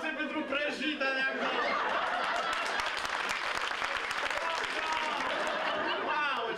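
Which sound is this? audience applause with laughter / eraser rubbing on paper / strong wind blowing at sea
audience applause with laughter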